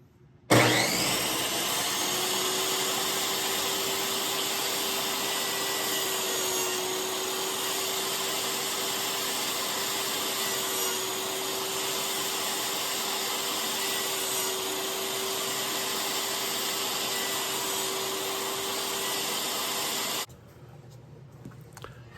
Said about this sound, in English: the dado blade has cut that down 1/8 of an inch